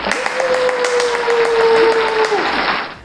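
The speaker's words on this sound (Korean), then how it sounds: "우리 박수로 한번 맞이해 볼까요?" Clapping welcomes a guest in a children's Bible camp lesson, a short burst of close hand claps lasting about two and a half seconds alongside a sustained musical tone.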